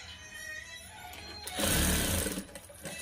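A sewing machine stitches a child's frock made from an old saree, one short run of about a second rising out of quiet room noise, with no voices.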